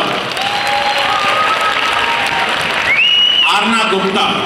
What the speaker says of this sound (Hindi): Have a big clap for Aarav.